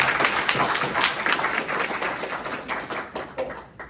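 Audience applause for a panel of top-producing real estate agents at a conference, a moderate crowd clapping steadily for about four seconds, slightly distant and tapering at the end.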